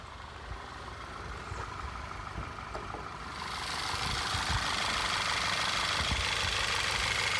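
A 2013 Volkswagen Eos four-cylinder engine idles steadily with no voices, its hum growing louder and brighter about halfway through, as if heard more closely.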